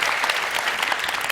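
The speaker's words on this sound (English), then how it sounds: "Give yourselves a round of applause." Audience applause at a TED talk, a loud, dense and even burst of many hands clapping, alone without talk.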